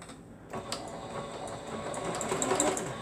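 A sewing machine stitches down a quilt, a steady close mechanical whirr with a fast rhythmic clatter that starts after a brief quiet moment and runs continuously.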